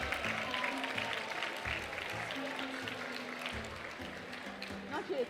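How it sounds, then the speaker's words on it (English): Applause for the President of South Africa fills a conference hall at a judges' biennial opening session in Cape Town, a sustained patter of clapping from a seated audience with a voice talking over it. "give him another round of applause for honoring us with his presence."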